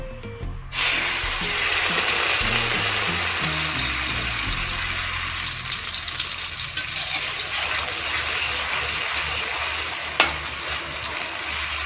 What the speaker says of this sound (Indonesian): Ini minyaknya sudah panas, langsung kita masukkan bumbu yang sudah kita blender.